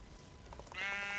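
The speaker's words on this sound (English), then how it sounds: "there's some sheep right frickin' here" A sheep in the Minecraft Feed The Beast modpack gives a single drawn-out bleat near the end, loud and close, after soft game background sounds.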